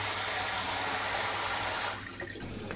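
Water gushes strongly from a combined tap and shower head in a night train compartment on a Munich to Genoa route, a loud steady rush that suddenly drops to a softer trickle near the end.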